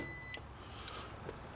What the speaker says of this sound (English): it's beeping because the ambient temperature is too low